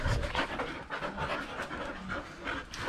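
A dog pants close up, its quick, breathy huffs running continuously in an even rhythm for the whole stretch.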